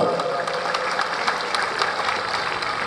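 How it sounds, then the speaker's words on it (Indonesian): Ceremony attendees at a Pancasila birthday event in Papua applaud for the school children, a steady, even patter of clapping from a gathered crowd with a voice over it. "Ya, tepuk tangan buat anak-anak sekolah dulu."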